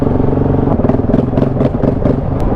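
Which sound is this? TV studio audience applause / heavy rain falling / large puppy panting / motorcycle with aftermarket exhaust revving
motorcycle with aftermarket exhaust revving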